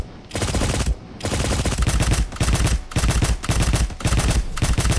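Loud bursts of automatic gunfire in the video game Cyber Hunter, rapid sustained volleys in several long strings separated by brief pauses, close and intense.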